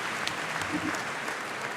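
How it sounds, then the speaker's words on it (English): Brief, steady audience applause at a tech conference welcome session, a dense mass of clapping at moderate level with a few sharper claps standing out. "Thanks a lot, and a lot of applause for you."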